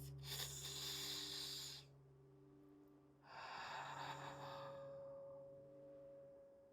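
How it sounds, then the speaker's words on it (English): A slow, deep breath heard up close, a long airy inhale followed by a softer drawn-out exhale, set over a quiet sustained tonal drone. "let's take another deep breath"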